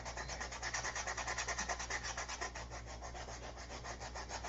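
Hand sanding with 80 grit sandpaper, a steady rhythmic back-and-forth rasping scrape, close and fairly loud, continuing alone without talk.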